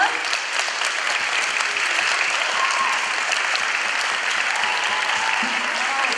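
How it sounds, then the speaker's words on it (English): Parents and guests clap for second graders at a day school concert, a sustained, fairly loud round of applause with an even texture and a faint voice or two underneath. "let's give them another round of applause"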